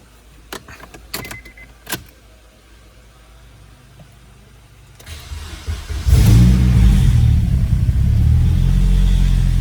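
A few metallic clicks and rattles, then a Honda car engine cranks and fires up close, settling into a loud, steady idle.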